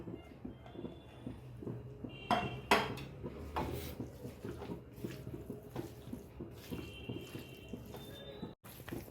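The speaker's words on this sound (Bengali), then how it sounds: "এবার আমি গ্রেট করে রাখা পনিরটা দিয়ে দিলাম।" Grated paneer goes into a pan of cauliflower amid soft scraping and clinking of a spatula against the pan, quiet and close with a few brighter metallic knocks.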